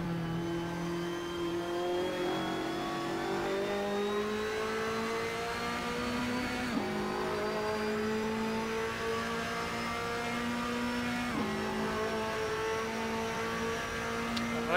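Ferrari race car engine in Assetto Corsa, screaming continuously at high revs with pitch sweeping upward through gears, dropping sharply at two gear changes, loud and close with no talk.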